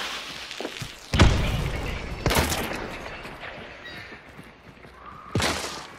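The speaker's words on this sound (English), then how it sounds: "He's shooting in." Gunfire in Hunt: Showdown as an enemy shoots in, three sharp loud shots a second or more apart, each with a booming tail over quiet ambient game noise.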